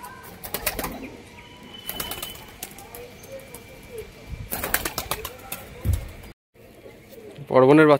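A flock of seven pigeons takes off together, with bursts of wing flapping and scattered coos, loud broadband flurries separated by quieter stretches, and a brief pause before a final close burst.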